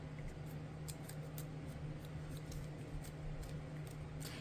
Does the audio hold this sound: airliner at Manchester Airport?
no